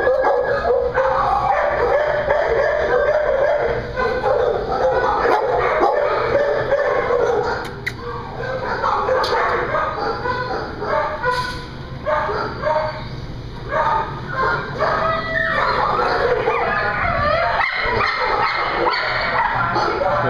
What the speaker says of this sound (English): That's a purebred Rottweiler.